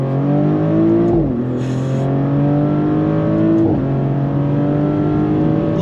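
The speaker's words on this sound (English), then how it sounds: "We're gonna go on throttle from a dead stop." A 2024 Maserati Grancabrio Trofeo with twin turbos pulls hard from a dead stop, its engine note rising steeply, dropping briefly at two gear changes, then climbing again, loud and close from inside the car.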